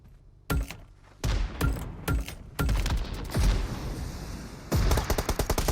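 A grenade launcher fires in the PUBG mobile game: several loud, punchy bursts with heavy thumps, then a rapid run of cracking shots near the end, with no talking.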